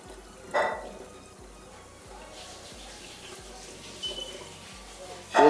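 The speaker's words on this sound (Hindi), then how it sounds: "तो सबसे पहले मैं इसको ओपन करके यहाँ पर पानी डाल देता हूँ" Water pours into a Prestige PKOSS 1.5 L electric kettle, a steady splashing stream that swells and softens as the vessel fills, close and clear with brief handling noises at the start and end.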